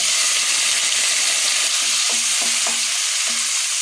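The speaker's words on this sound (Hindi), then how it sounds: "तो टमाटर और मसालों को मैं अच्छी तरह से फ्राई कर ले रही हूँ।" Chopped tomatoes, green chili, ginger and spices such as turmeric and cumin powder fry in a hot pan, giving a steady close sizzle with faint stirring scrapes and no talking.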